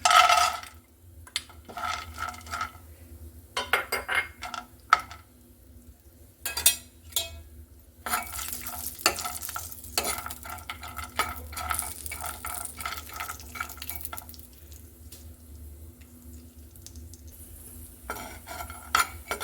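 Cashew nuts frying in ghee in a pan for kalkanda pazha payasam, with repeated metal spoon clinks and scraping stirs against the pan over a low sizzle, close and fairly quiet with no talk.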